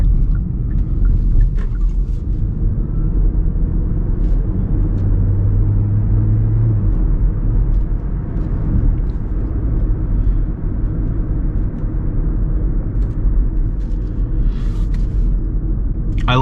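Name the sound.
Hyundai Ioniq Hybrid engine grumbling while driving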